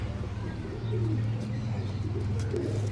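A Teddy Ferozpuri pigeon coos in low, rolling calls close by, a soft throaty burble repeating across a few seconds.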